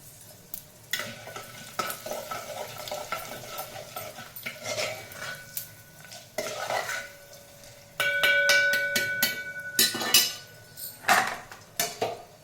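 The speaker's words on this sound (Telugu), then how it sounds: "పోపులు వేస్తున్నాయి కదా ఫ్రెండ్స్" Tempering spices crackle and pop in hot oil for rice rava upma, punctuated by repeated clinks and scrapes of a utensil against the pan, growing busier toward the end.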